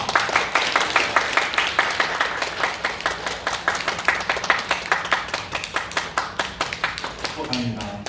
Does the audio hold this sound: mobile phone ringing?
no